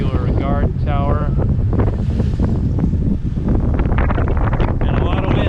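Strong wind buffeting the microphone off the Formentera coast in the Balearic Islands, Spain: a loud, steady roar with sea noise beneath, while a person talks over it.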